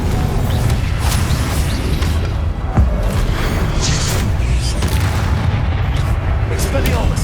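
Repeated Confringo fire-spell blasts from the Hogwarts Legacy game, dense booming explosions layered in close succession, with one sharp crack near the middle and a loud, constant rumble throughout.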